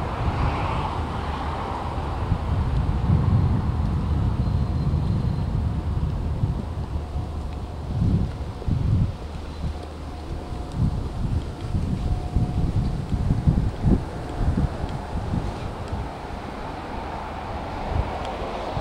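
Wind buffets the microphone on the Victoria Embankment in London, a steady rumbling roar with irregular low gusty thumps over faint background city noise.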